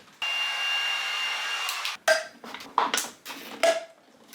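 A heat gun blows steadily to soften butyl sealant on a car headlight lens, then cuts off, followed by several sharp plastic clicks and taps as the lens is pressed into place.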